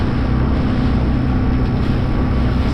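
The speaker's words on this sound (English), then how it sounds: "this boat handles it like an absolute dream" A small inflatable boat loaded with fishing gear motors steadily through choppy water on the Solent, with a continuous engine drone and broadband wash and wind noise filling the whole stretch, close and loud.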